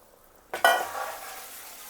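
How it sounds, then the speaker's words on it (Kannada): After a quiet moment, water goes onto a coconut masala paste in a hot pan for mutton kheema sambar, a sudden loud hiss that slowly fades into a gentle simmer, no voices. "ಮಸಾಲೆಗೆ ಸ್ವಲ್ಪ ನೀರು ಹಾಕ್ಕೊಂಡು"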